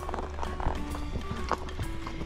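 A horse walking on the Caballo Trail at Daley Ranch, its hooves clip-clopping in a few irregular knocks beneath light talking.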